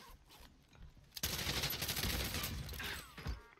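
A sustained burst of rapid gunfire in Call of Duty Warzone crackles for a couple of seconds, fairly distant and dense, after a quieter lead-in.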